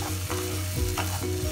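Egg bhurji with tomato sauce and capsicum frying in a pan, a steady close sizzle with soft stirring scrapes.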